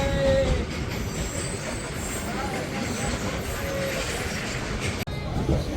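The Dhauli Express pulls into Khurda Road junction, its wheels rumbling steadily with faint squeals and clatter from the rails, heard from nearby with voices in the background.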